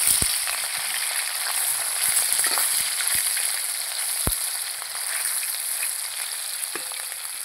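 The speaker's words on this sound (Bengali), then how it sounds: "এই মাছগুলো এবার ভাজা হতে থাক। এই মাছগুলো উল্টে দেবো আর একবার।" Fish frying in a pan gives a steady, close sizzle that runs the whole way through, with a few sharp pops and crackles rising out of it and no talking.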